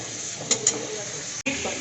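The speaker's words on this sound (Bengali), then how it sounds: "এখানে আমি সবজিগুলো সমস্ত কিছু হালকা ফ্রাই করতে দিয়ে দিয়েছি" Vegetables frying lightly with pasta in a shallow layer of oil and water in a pan, making a steady close sizzle broken by a couple of small clicks and one brief cut-out.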